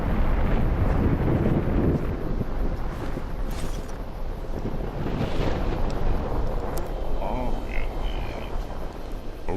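Steady, loud wind rushing through an open wasteland in the Fallout New Vegas game, a constant broadband roar that lasts throughout with faint higher tones above it.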